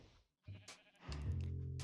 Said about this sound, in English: And there's the mountain goats.